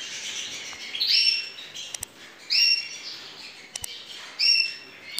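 A male canary gives several short, bright chirps in bursts separated by pauses, fairly close and clear over a faint background hiss.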